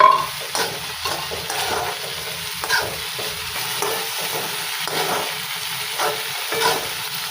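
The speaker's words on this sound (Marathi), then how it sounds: "जिरे टाकल्यानंतर हे सुद्धा छान असं परतवून घ्यायचं आहे" Cumin seeds sizzle and are stirred in a hot pan for a spicy eggplant bharit, a steady close frying hiss broken by repeated scraping stirs.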